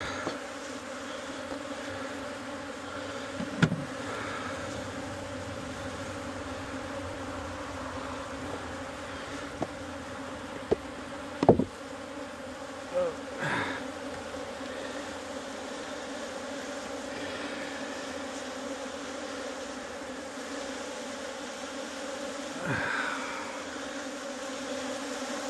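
Honeybees hum around open hives during beekeeping, a steady low drone of many insects close by, broken by occasional louder passes of single bees and a few faint knocks and clicks.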